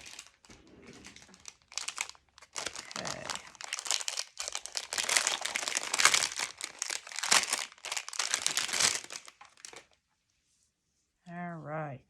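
A new roll of 3/8 inch tape handled at a papercraft desk, giving close crinkling and rustling bursts for about ten seconds, then a brief pause before a short tonal sound.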